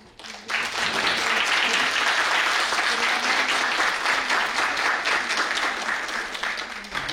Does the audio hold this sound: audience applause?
yes